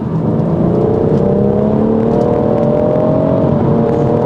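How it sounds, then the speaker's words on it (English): A BMW M140i with the B58 3-litre engine revs steadily as it runs down through the gears. It makes a loud, continuous, close-up drone whose pitch rises and falls, with no talking over it. "Don't get me wrong, this still sounds pretty good if we go down the gears."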